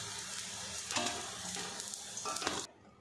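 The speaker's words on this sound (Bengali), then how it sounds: "বাকি বড়াগুলো আমি এইভাবে ফ্রাই করে নেব।" Ridge gourd fritters frying in hot oil give a loud, steady sizzle with a few stirring bursts near the pan, then cut off sharply near the end.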